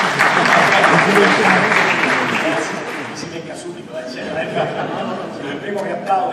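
Applause at a political signing ceremony for a regional master plan in Abruzzo, loud clapping from a crowd that gradually fades, with voices and light chuckling mixed in beneath.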